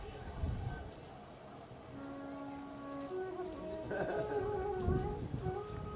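Rain falling during the monsoon season, a soft steady patter in the background under a faint voice and tonal sounds that come and go.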